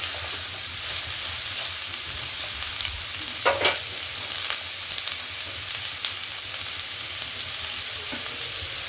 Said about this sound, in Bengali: ভালো করে তেলের সাথে মিশিয়ে নিতে হবে